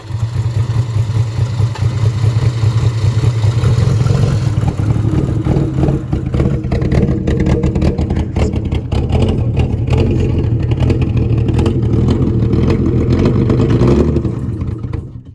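A Mercedes 300D W124 with the OM606 diesel engine, left sitting for ten years and suffering an exhaust blow, runs loud and close. It settles into a steady clattering idle that holds for most of the stretch, with no talk over it.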